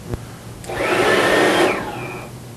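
A Professional Series Gold unit with pilot shutdown technology winding down as it shuts off: a broadband whoosh swells for about a second with a high whine, then fades into a falling tone that slows toward stopping. No talking.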